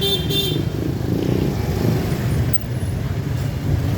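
Vehicles pass along a busy Naga City street on a market day, with continuous engine rumble and traffic noise, motorbikes and cars close by, and a few horn toots early on.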